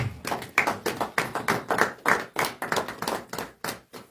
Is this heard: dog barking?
no